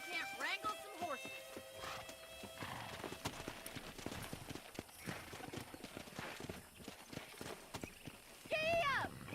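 Horse hooves clip-clop at a gallop in the video game Red Dead Redemption, with neighing and whinnying near the end, over some speech and background sounds.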